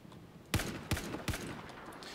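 Gunshots in the Battlefield 4 video game, fought on the Siege of Shanghai map: three sharp, evenly spaced cracks about 0.4 seconds apart, fairly quiet over faint background noise, with no talking.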